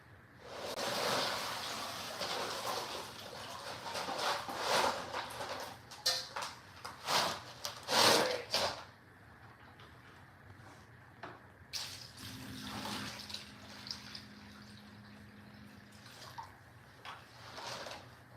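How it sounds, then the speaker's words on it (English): Dirty water poured out of a rock tumbler barrel holding chert and quartz, then clean water added; close splashing and gurgling pours in bursts, with a pause and a faint hum near the end. "I'm gonna dump out this dirty water and put some clean water in."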